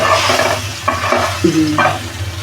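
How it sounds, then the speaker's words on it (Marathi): Bangda mackerel fry in hot oil with a close, steady sizzle, and several light clacks and scrapes come from tongs turning the fish in the pan. "आता आपण असा चिमट्याने त्याला फिरूया चिमट्याने असा फिरू"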